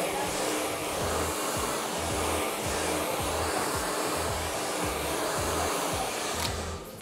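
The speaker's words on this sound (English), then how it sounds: "I'm going to use a dryer and a brush." A hair dryer blows steadily while hair is brushed straight, a loud continuous whooshing roar with a faint rhythmic low pulsing, close and uninterrupted.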